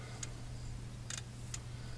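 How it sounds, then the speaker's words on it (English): Fuel pump relay in a car clicking after the key is turned on: a few sharp, faint ticks spaced irregularly over a steady low hum, with no talk. "I can feel the fuel pump relay clicking."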